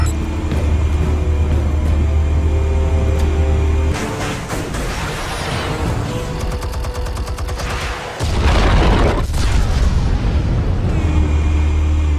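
Explosion in Batman: The Telltale Series, a booming blast over steady game music and ambience, followed by rumbling debris and crackling bursts that fade before the background resumes.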